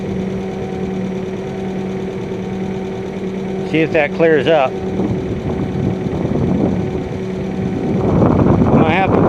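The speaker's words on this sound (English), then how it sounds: "I'm going to have to warm the engine up" A 2001 Kia Sportage engine idles steadily after a cold start following repair, a continuous low hum running throughout while someone talks over it partway through.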